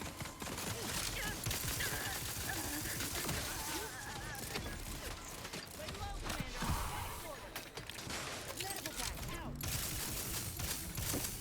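Rapid gunfire from a weapon in The Outer Worlds 2, loud bursts of shots and impacts running almost continuously, mixed with clattering debris and some game voices.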